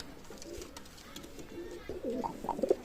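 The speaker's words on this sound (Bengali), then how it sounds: "টেডি রানিং পেয়ার কবুতর আছে" Pakistani Teddy pigeons in a loft give soft, low, rolling coos, near and fairly quiet, growing busier toward the end over a faint background murmur.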